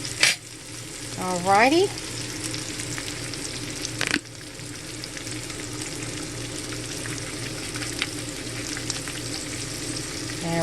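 Chicken and vegetables fry in a pan with Parmesan cheese while being stirred and mixed, a steady close sizzle with a few scraping clinks and a brief voice early on.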